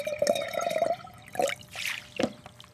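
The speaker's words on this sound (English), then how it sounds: "First, we add the water." Water is poured into a container for an oil-and-water experiment, a close trickling pour with gurgling bursts that stops and starts in short spurts.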